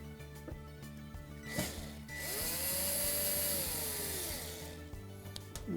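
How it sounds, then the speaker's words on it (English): Power driver backing a ground wire screw out of a Samsung smooth top range, a brief rising whir with a few clicks and handling knocks before and after, fairly quiet and close. "Just remove that screw."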